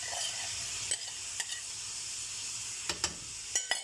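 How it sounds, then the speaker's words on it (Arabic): Minced garlic, about three cloves, sizzling in a pan with zucchini for a minced-meat tagine, a soft steady frying hiss broken by a few stirring clicks, close but fairly quiet, no voices. "هنزل طبعا كده ببطاطسين من الثوم المفروم اهو"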